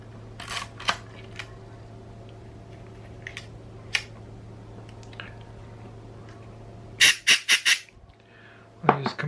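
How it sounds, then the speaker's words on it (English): A Konica rangefinder camera with a sticking shutter fires repeatedly up close: a few sharp isolated clicks, then a quick run of four crisp snaps, then more near the end, all over a low steady hum. "I'll charge the shutter, and then I will wipe the solvent around, make the shutter blades wet, and simply fire the shutter"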